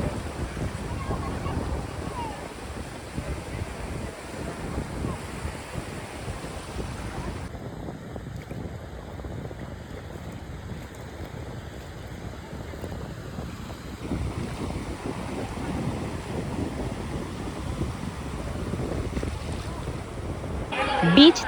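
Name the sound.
sea waves on an empty beach at Mandarmoni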